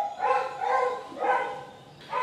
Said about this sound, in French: ce chien va me tuer